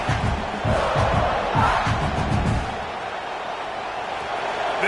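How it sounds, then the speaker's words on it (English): A college football stadium crowd roars loudly throughout, a dense wash of massed voices and cheering with surges in the first half before settling into a steady din. "This crowd going to try to make life miserable for these guys."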